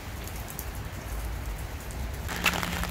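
Steady rain falls in a city park, a dense, even hiss of drops on surfaces that stays constant throughout with no voices.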